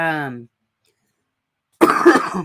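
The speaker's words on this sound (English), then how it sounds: "I got this shitty cough that won't go away." A voice trails off, then after a short silence comes a harsh, raspy cough burst close to the mic.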